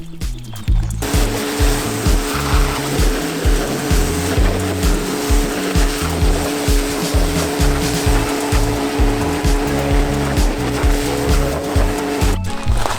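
A Nilfisk pressure washer blasts dirt off a Land Rover Discovery, with a loud, steady hissing spray over a throbbing pump that pulses rapidly and evenly throughout, close by.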